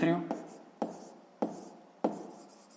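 A pen writes out a sixth-grade maths solution on paper, four short scratching strokes at a regular pace, close and quiet, following a brief spoken word at the start.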